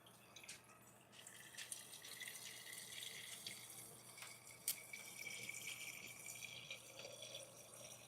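Water poured into a drinking glass that holds a little ice, a thin trickling stream with faint clinks and drips, fairly quiet and with no talking.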